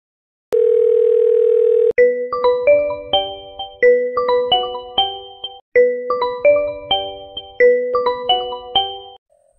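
A steady electronic phone tone gives way to a bright, repeating chiming ringtone melody, loud and close, with no talking.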